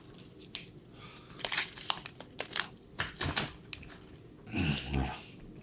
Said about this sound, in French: Je vais prendre mes petits ciseaux.